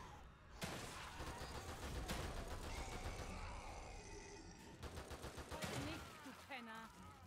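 Gunfire in The Evil Within 2, sharp shots cracking through a busy fight with strained grunts and cries, fairly close and loud, with voices in between.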